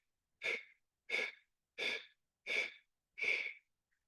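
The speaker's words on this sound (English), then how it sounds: "Exhale, 8 stroke breath through the mouth." Five sharp, evenly spaced breathy exhales pushed through rounded lips in a segmented kundalini yoga breath, close and quiet, each burst short and hissy with brief silence between.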